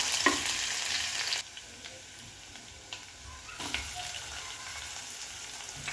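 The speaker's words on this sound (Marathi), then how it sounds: "कांदा चांगला लाल होईपर्यंत परतून घ्यायचा।" Chopped onions sizzle and fry in a pan after ginger-garlic paste, a steady quiet crackle with a few stirring scrapes; the sizzle runs loud at first, then drops lower and steadier.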